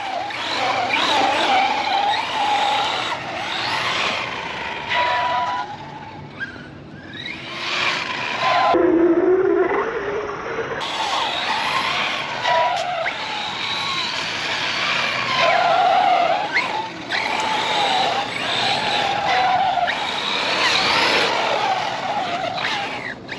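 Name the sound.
Arrma Mojave 4S RC car driving and skidding on dirt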